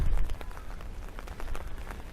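Steady rain falls during poor visibility near a long bridge on the west coast of the bay by downtown Busan, a continuous broadband patter with some brief sharper drops, fairly close and without speech.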